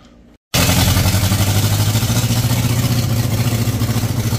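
After a brief quiet moment, an engine in need of muffler repair catches and roars, settling into a loud, rough, steady run close by.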